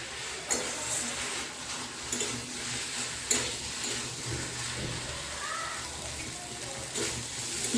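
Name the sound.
papaya and potato stir-frying with spices in pan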